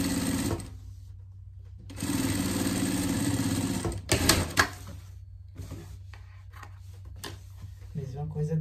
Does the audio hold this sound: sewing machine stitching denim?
yes